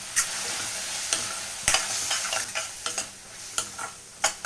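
Chili, salt, coriander powder, turmeric and garam masala being stirred together for egg dum biryani, with a steady scraping hiss and several sharp clinks of a spoon against the vessel, close and alone.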